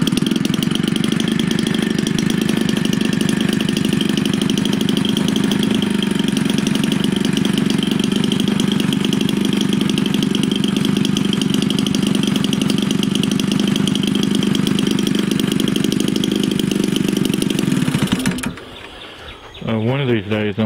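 A tuned Homelite 30cc Silver Eagle small two-stroke engine idles close by with a loud, steady buzzing drone, then cuts out abruptly near the end, leaving a brief rattling sputter.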